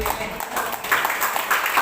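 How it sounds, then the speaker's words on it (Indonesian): A church congregation applauds for Jesus during a Sunday Ascension Day worship service, a steady wash of many hands clapping at moderate volume that swells slightly in the second half. "tepuk tangan untuk Tuhan Yesus"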